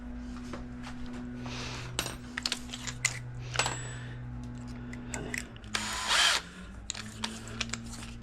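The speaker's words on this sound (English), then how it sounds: "We're going to drill the 3rd hole here." A power drill whirs close by in several bursts, revving up and easing off as it bores a hole in a Traxxas Spartan RC boat, with a few small clinks between runs.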